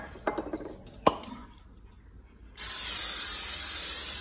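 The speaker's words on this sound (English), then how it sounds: "A little bit of non-stick spray" Non-stick cooking spray is sprayed into the bottom of a crock pot, a loud, continuous close-up hiss that follows a few light clinks of kitchenware.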